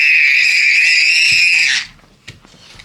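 A toddler at home gives one long, piercing, sustained scream that cuts off abruptly, followed by a few quiet thumps and soft movement noises.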